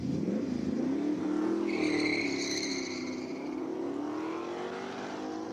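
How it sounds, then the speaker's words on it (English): A V8 engine in a classic South African Piranha race car roars as it accelerates up a hill-climb track in Cape Town, the pitch climbing then settling into a sustained drone as the car moves off. "Listen to that V8 all the way up the track."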